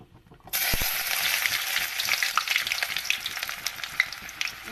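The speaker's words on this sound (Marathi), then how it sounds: "आपलं रायचं तेल झालेलं आहे गरम आणि मी टाकते आता ह्याच्यात कांदा" Onion dropped into hot mustard oil bursts into a loud, close sizzle that stays crackly and bright throughout, with a faint clink at the moment it goes in and no voices.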